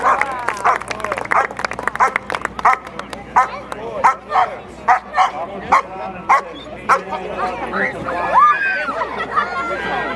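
A police dog barks repeatedly during a safety day demonstration, sharp close barks and yips in uneven bursts over a noisy outdoor crowd, with people chattering throughout.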